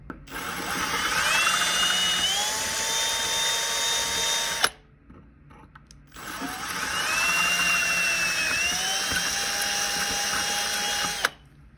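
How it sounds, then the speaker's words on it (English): A power drill with a number 21 bit whines steadily as it bores into a metal scope mount base, its pitch rising as it spins up. It stops and then runs through a second long pass. "I drill these two holes out with that number 21 drill bit"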